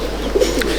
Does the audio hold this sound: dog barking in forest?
no